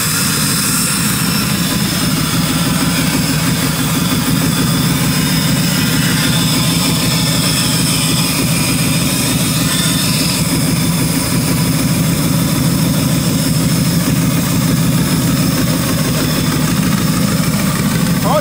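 Twin-charged Ford Crown Victoria V8 idles steadily and loudly up close, a constant deep throbbing rumble with whine overhead and no pauses throughout.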